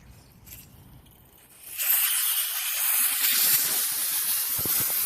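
Compressed air bursts into a loud, steady hiss as the valve on a neglected air compressor is opened by hand, following a quieter moment, and keeps rushing out close up.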